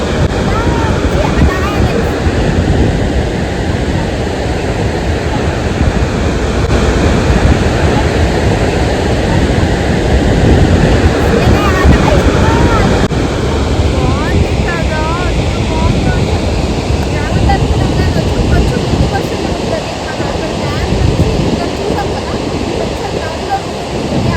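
Water rushes and roars at Srisailam dam, a loud, continuous outdoor torrent with gusts of wind buffeting the microphone and voices talking beneath it.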